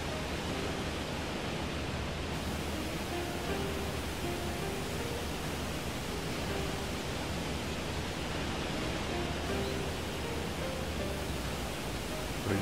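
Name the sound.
waterfalls in video game Shenmue 2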